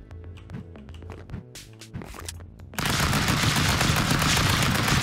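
Dense rapid gunfire from the Stick Fight video game erupts partway through, sharp clicks and pops giving way to a loud, continuous barrage of shots that fills the rest of the moment.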